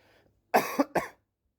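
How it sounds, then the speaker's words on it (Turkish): Two harsh coughs in quick succession, close and loud, after a moment of near silence. "Bak öksürdüm boğazıma kaçtı ya."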